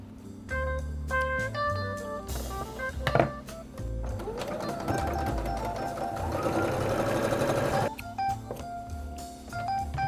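Sewing machine running straight stitches along a curtain hem, a continuous whirring motor with rhythmic needle clatter, stopping and restarting in short bursts with a few thunks between runs, close and fairly loud.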